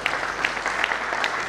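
Audience clapping fills a hall during a speech at the opening of a GPdI NTT regional church assembly attended by the governor, a dense, steady patter with a few sharper bursts.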